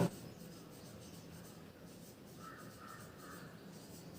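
Chalk or marker writing on a classroom board, faint scratchy strokes repeating softly under a quiet room tone, with no talking.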